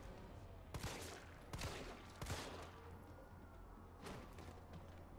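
Gunfire from the video game Resident Evil 3 Remastered: three or four sharp, booming shots spaced irregularly over a low rumbling game soundscape, fairly loud against the background.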